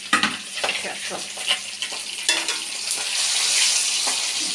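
Rohu fish pieces fry in a pan, crackling and spitting loudly and close, with sharp bursts of sizzle and a denser hiss building toward the end; a voice speaks a single word near the start.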